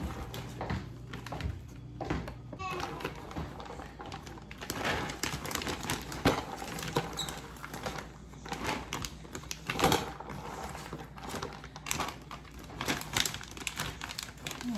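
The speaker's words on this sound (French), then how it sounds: "Le reste, je vais mettre ça dans un sac plastique." Plastic bag crinkles and rustles as leftover leeks and other food are stuffed into it, busy irregular crackling with sharp snaps, close and fairly loud, no talk.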